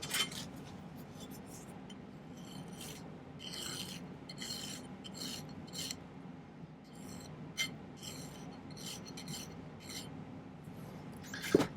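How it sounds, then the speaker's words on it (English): A metal file rasping against the end of silver bezel wire in a silversmithing workshop, a close series of short, scratchy back-and-forth strokes in an uneven rhythm, quiet but clear against a soft background hum. "when I go to shape this, first off I'm going to file the end a little bit."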